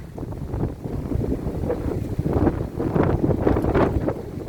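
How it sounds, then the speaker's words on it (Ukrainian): Strong wind buffets the microphone outdoors on hospital grounds in a steady, rumbling roar that swells in gusts, with no voices. "Боже, такий вітер, що мене зараз дує."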